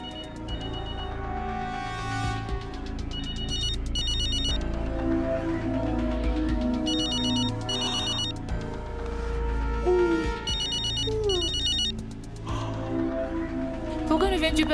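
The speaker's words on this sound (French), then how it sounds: "Mon téléphone sonne." A mobile phone rings indoors with repeated bursts of a melodic electronic ringtone in a regular pattern, heard alongside background music and low voices.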